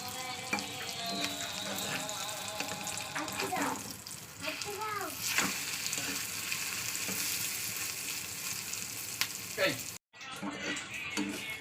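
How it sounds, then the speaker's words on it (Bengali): An egg frying in a pan at home, a continuous moderate sizzle with clinks and some voice-like sounds over it, briefly cut off near the end before resuming. "তো ডিমটা ভাজা করে নিই।"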